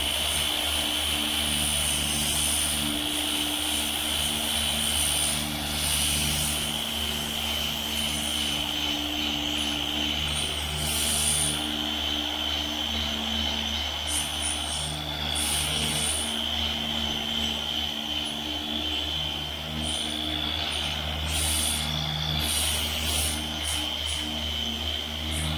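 80-grit sanding strips old paint and bondo from the body of a 1972 Chevy Nova, giving a constant droning whir with a high steady whine. It holds at an even, fairly loud level throughout with no talking.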